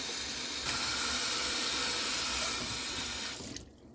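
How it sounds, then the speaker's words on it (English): Rocks being rinsed under a running tap to clean them before tumbling, a steady close wash of water that ends abruptly as the flow is shut off. "just rinsing the rocks under the tap?"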